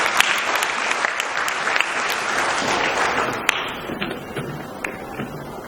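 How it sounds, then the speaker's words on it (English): An audience at a children's charity centenary celebration applauds in a dense burst of clapping with a few sharp individual claps, starting full and gradually thinning out. "Can we please put our hands together for her as she comes?"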